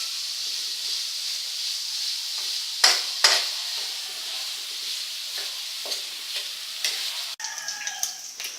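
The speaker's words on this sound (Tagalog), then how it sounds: "Saute until the ground pork is cooked." Ground pork sautéing in a frying pan while spaghetti is being cooked, giving a steady close sizzling hiss with a few brief louder spits and stirring scrapes along the way.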